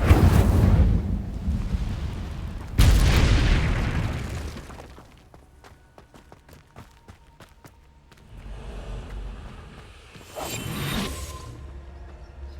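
Incendio fire spell in Hogwarts Legacy, heard as two heavy whooshing blasts of fire in the first seconds, with a roaring decay, then quieter crackles and small clicks, and another burst near eleven seconds.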